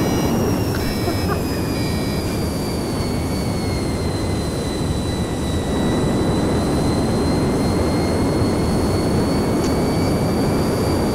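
Jet aircraft engine in the Garry's Mod video game, a loud steady roar with high whining tones, running continuously throughout without pause.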